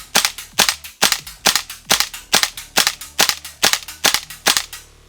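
A WE AK74 gas blowback airsoft rifle fires semi-automatic, about fourteen sharp, evenly spaced cracks with a snappy bolt report, close and loud with no talk.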